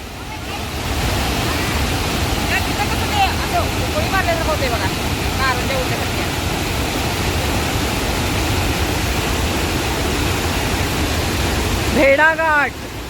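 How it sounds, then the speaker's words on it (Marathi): Powerful water falling hard at Bhedaghat on the Narmada river, a loud continuous rushing roar filling the scene, with a voice talking briefly near the end. "एवढा याला फोर्स आहे की ते पाणी उलट यायला लागले, एवढं जोरात पडायला लागले"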